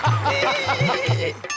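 A horse neighing on a comedy TV show stage, a loud close whinny with repeated pulsing cries and hoof-like clops over about a second and a half, with no clear speech.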